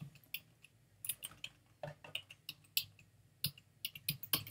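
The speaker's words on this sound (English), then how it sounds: "In the search box in the upper right-hand corner, type in strawberry." Someone types on a computer keyboard while searching for a design in Cricut software: quiet, irregular clusters of key clicks with short pauses between them, recorded close and softly with no talk.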